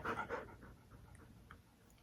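Soft, quiet breathing and panting from a dog close by, a few breathy puffs at first that fade into faint steady breaths.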